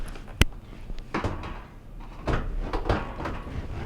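A GE oven door is lowered back onto its hinges, giving several sharp metallic clunks and knocks spread unevenly across the moment, with scraping and rattling in between, close and moderately loud.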